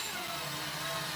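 A Milwaukee installation driver pre-drills holes, its motor whining at a steady, continuous pitch from start to finish, close and fairly loud, with no talking.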